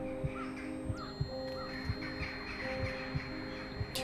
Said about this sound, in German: Die Raben hauen alle ab.